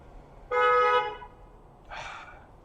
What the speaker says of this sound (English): Stupid people honking their horns outside my open window.